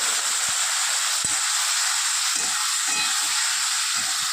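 Cumin and coriander powder sizzling with a little water added, a constant loud steamy hiss close by. A few faint knocks and scrapes of a utensil sit under the hiss.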